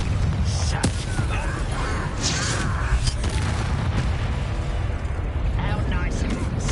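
Confringo blasting curse going off in the Hogwarts Legacy video game, a dense rumbling blast with crackling bursts that fills the clip, loud and continuous, with game character voices over it.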